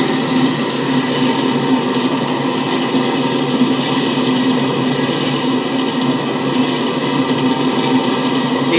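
Amtrak Acela high-speed train in a train video game, a loud continuous rumble and rolling hum of the train running at speed, steady throughout with no pauses and no voices.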